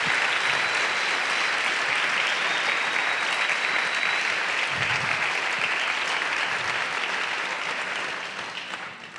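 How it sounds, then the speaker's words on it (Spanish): Loud, sustained applause from a church congregation at a worship service, dense and continuous hand clapping filling the room for several seconds before it begins to taper off. "Dale ese aplauso al que vive hoy fuerte."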